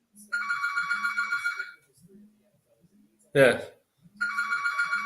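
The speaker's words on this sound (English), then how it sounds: "British telephone rings." A British telephone ringtone trills in two loud, repeated bursts of rapid electronic pulses, broken by a brief silence in which someone says a single word.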